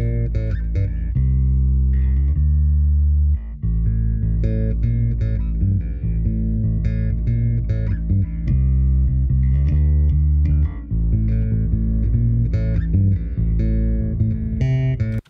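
A deep, sustained synth bass line plays alone, holding steady low notes with brief gaps between phrases.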